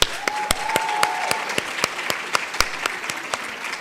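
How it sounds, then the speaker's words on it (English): An audience at a conference closing session applauds, with distinct hand claps landing in a steady, fairly sparse rhythm over a faint sustained tone. "Let's clap for Lebanon."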